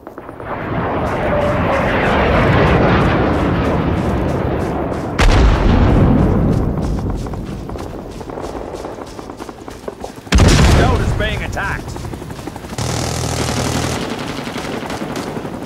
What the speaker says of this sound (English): Napalm inbound. Take cover.